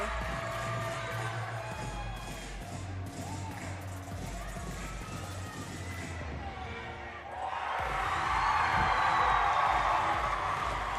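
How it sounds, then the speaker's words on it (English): A college gymnastics crowd cheers during a floor routine at a Southern Utah meet against Arizona, with rhythmic crowd noise and chanting over music, then a louder swell of cheering near the end. "You can see the crowd joining in when they say SUU there."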